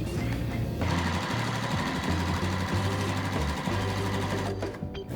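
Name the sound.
sewing machine stitching quilt sashing strip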